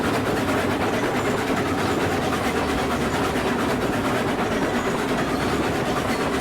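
Large steam locomotive in the RailRoads Online video game, set in the 1880s American West, rolling on rails with a continuous dense rumble and faint rhythmic clatter, steady and loud throughout with no voices.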